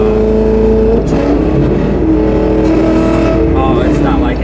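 An 850 hp supercharged Mustang engine accelerates hard from inside the car, a loud, constant roar with climbing revs and gear changes, while people talk over it.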